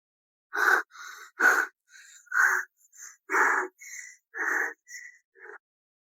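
A child wheezing in an asthma attack, dramatized: a series of about ten short, strained, whistling breaths with raspy edges, close and loud, spaced unevenly with brief silences between them.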